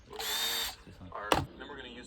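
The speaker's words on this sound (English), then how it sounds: "Got this special bit to drill long holes, 3/16 inch like airline bit." A power drill fitted with a 3/16 inch airline bit bores long holes while cable railing is installed, giving a sustained whine followed by a short clunk and a quieter tail.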